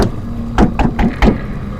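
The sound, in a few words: hard knocking on wooden door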